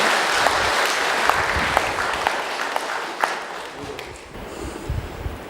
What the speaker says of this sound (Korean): 큰 박수로 맞으십시오.